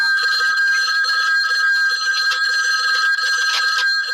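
An old telephone bell rings continuously in a 1981 horror comedy film scene, a loud, bright metallic trill that keeps going unbroken for several seconds without speech.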